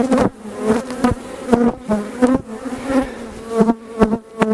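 Dense, loud buzzing of many honey bees close up, pulsing in uneven surges as they swarm around an open hive box during an inspection.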